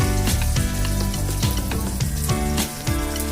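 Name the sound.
snakehead fish frying in mustard oil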